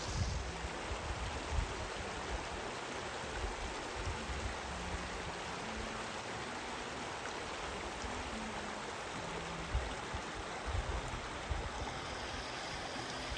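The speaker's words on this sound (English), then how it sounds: "All right, crossing Kings Creek." Kings Creek rushes over rocks at a log crossing along the Pacific Crest Trail, a close, continuous broadband water noise that stays steady throughout with no voices.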